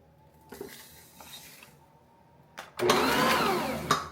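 A Bosch stand mixer creams unsalted butter with brown sugar in a home kitchen. Soft clinks and handling noise come first, then the motor starts abruptly and whirs loudly and steadily for the last second or so.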